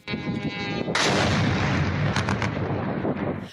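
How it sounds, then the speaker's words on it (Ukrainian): A continuous, loud roar of drone-strike blasts and rumbling at a military airfield, with sharp cracks on top, like explosions at close range. "росіяни пригинаються під вибухи українських дронів, які атакують цей самий аеродром"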